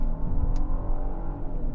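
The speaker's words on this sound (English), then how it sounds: "So let's go ahead and accelerate." A 2025 Genesis GV80 SUV accelerating, heard from inside the cabin as a steady, muted low engine drone and road hum, with no voices.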